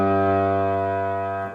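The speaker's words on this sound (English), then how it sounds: "In the bass clef, the G, Do, that you'll need to know sounds like this." One low piano G in the bass clef range sounds alone, a rich sustained tone that holds steady and then cuts off after about a second and a half.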